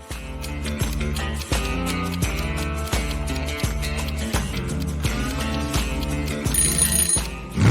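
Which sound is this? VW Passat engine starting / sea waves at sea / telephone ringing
telephone ringing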